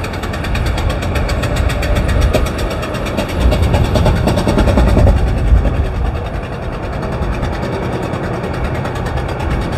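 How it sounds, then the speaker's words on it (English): A truck's Caterpillar engine runs rough, a loud close rumble with a rhythmic knocking pulse that swells and eases over several seconds, no voices. "I think his truck is sick. I really do think it's sick."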